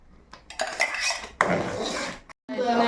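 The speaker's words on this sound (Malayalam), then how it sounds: "ഇളക്കി കൊടുക്കട്ടാ." A metal utensil stirs pumpkin payasam in a pan, with clinks and scrapes in uneven bursts, close and clear, followed by a brief pause and more stirring.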